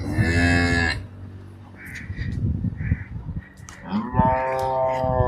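A cow that has recently calved gives two loud, close moos, one at the start and one at the end, with crows cawing in between, at a dairy farm in Rajasthan.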